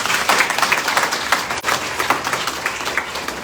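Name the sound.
clapping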